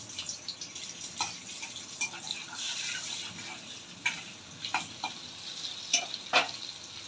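Butter sizzles in white oil in a pan for white sauce pasta, a soft steady fry with scattered sharp pops and crackles throughout.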